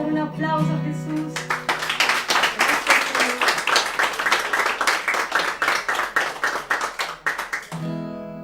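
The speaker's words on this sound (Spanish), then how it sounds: "Vamos a dar un aplauso a Jesús." A church congregation claps in a steady rhythmic beat for about six seconds, loud and close. Sustained music plays before and after, with a held chord under the claps.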